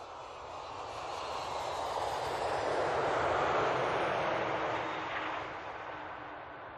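An airplane flies past, its engine roar swelling from a broad hiss to a loud peak midway and then fading away again, a smooth continuous drone with no voices.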